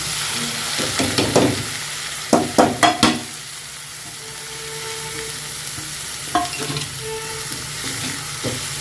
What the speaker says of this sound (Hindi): अब हम इसमें ये डाल देंगे प्याज और हरी मिर्च।